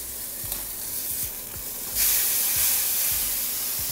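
Smashed beef burger patty sizzling loudly in a hot frying pan, with rhythmic scraping strokes of a spatula and a surge of hiss as it is flipped partway through.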